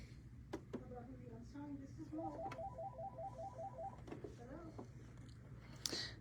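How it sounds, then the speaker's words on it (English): A mobile phone ringtone chirps in a repeating electronic pattern for a couple of seconds, faint and muffled as if in a pocket, with a low steady hum and a few clicks around it. "sorry for the phone, you guys"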